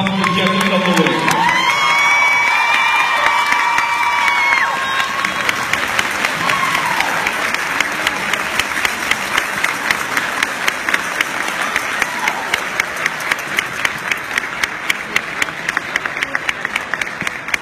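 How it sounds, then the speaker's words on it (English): An audience applauds and cheers for Jessica Lewis at a Brock University honoring event, loud sustained clapping with whoops that starts after a brief announcement and carries on steadily. "Please give a hand of applause to Jessica Lewis."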